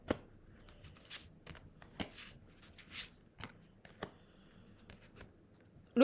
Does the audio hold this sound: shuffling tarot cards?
yes